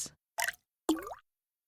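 Three separate water drips fall with uneven pauses between them; the last lands with a hollow, rising plop. Close and fairly quiet, with no other sound.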